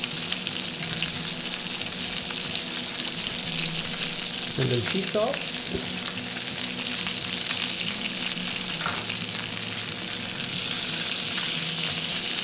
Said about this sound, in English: See how my pan is nice and hot and sizzling.